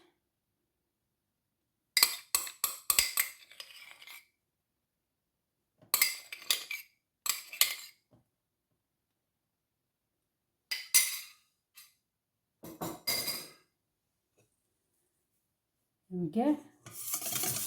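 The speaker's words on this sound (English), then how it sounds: "And we're just going to mix it up. Now the key here is to keep mixing." A utensil scrapes and clinks against a bowl while mustard is stirred into egg yolks, in several separate bursts of scraping with silent gaps between, close; a brief spoken remark comes near the end.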